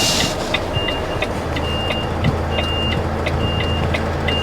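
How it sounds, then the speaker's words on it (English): A heavy goods lorry approaches steadily on the road, its engine a low continuous rumble, while a repeating electronic beep sounds at regular intervals throughout, like a reversing alarm. "There's a lorry coming there."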